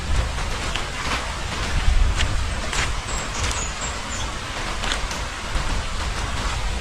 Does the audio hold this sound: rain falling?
yes